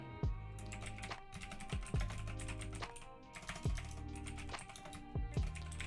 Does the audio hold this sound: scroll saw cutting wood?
no